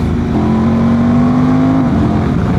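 A Honda Transalp 750 motorcycle with an ECU remap (UPMAP T800+) revs hard, its loud engine note climbing steadily before dropping off near the end, heard close and loud throughout.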